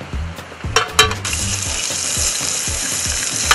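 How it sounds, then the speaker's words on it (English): Atlantic salmon fillets laid into a hot pan, with a few thumps and clatters followed by a sudden loud, steady sizzle that holds strong and close until the end. "And now the salmon fillets go into the pan."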